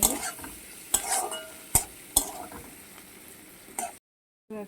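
Spices sizzle in a pan with turmeric and chilli powder for a loitta fish curry, with a soft continuous fry broken by sharp stirring knocks and spoon scrapes, ending abruptly in a brief silence.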